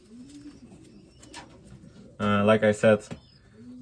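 A racing pigeon gives one loud, close coo of a few pulsing notes, following soft speech from someone talking about young racing birds.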